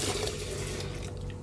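Tap water pours steadily into a sink while galunggong (scad) fish are rinsed, a loud, close, continuous splashing with slight fluctuations.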